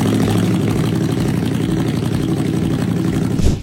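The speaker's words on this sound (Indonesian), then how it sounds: "Salah satu elemen yang sangat khas dari motor-motor Indian ini adalah suara mesin V-Twin mereka." An Indian motorcycle's V-twin engine runs nearby with a loud, rumbling, steady throb, holding at a constant pace before a brief surge at the very end.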